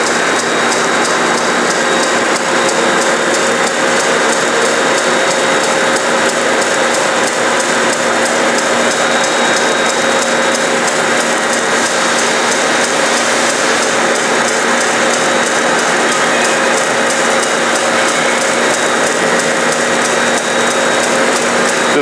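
A bandsaw fitted with a half-inch gulleted carbide grit edge blade cuts through a graphite block, giving a loud, continuous grinding hiss with a steady mechanical drone that holds unchanged throughout, with no voices.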